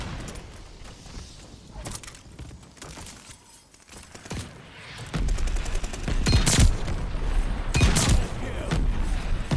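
Mortar barrage in the video game Call of Duty: Vanguard: loud, dense explosions and rapid gunfire build up in the second half over a constant din of combat.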